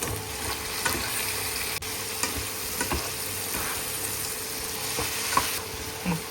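Mung beans fry in a pan while being stirred and mashed, making a steady close sizzle with scattered scraping and tapping from the utensil, and no talking.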